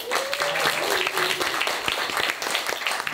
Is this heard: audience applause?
yes